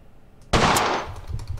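A single sharp Colt 1911 pistol shot in the World of Guns shooting range game, a loud sudden crack that decays quickly into a short echoing tail.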